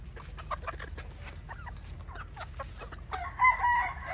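Gray pullets, young chickens, clucking nearby in short scattered calls, quieter at first and then a louder burst of clucking near the end.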